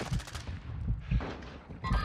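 Gunfire in the video game Warzone 2 comes as a dense run of loud, rapid shots lasting about two seconds, with a brief lull before a final burst.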